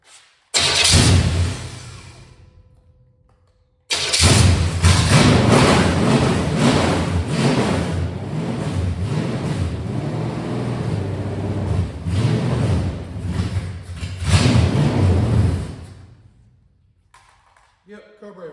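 The engine of a 1970 GMC 2500 truck with HEI ignition cranks briefly, then catches after a pause and runs loudly and steadily for about eleven seconds before shutting off, with a voice heard over it.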